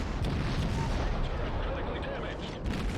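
US cruiser Atlanta firing HE shells in World of Warships, continuous rapid thumping gunfire and booms packed across the span, loud and dense, with a voice speaking over it.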